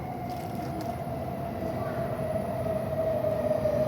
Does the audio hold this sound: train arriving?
yes